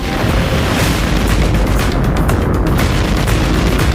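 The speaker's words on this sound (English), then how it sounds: "We have liftoff" SpaceX Starship rocket at liftoff on its fifth test flight, a continuous, very loud broadband roar with crackling bursts that holds steady throughout, with no voices over it.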